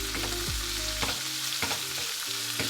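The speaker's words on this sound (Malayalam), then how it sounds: "ഈ സവാള ഒന്ന് ട്രാൻസ്പാരൻ്റ് ആകുന്നത് വരെ, ആ കരികരിപ്പൊന്ന് മാറുന്നത് വരെ ഇളക്കി കൊടുക്കുക കേട്ടോ." Chopped onions sauté in a hot pan while being stirred, a steady close sizzle punctuated by several scraping stir strokes in an irregular rhythm, with no voices.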